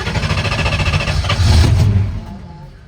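A PDRA Super Street drag racing car engine cranks over in a rapid, steady rhythm, then catches and roars loudly to life before easing back to a rough idle; close and alone, no talking.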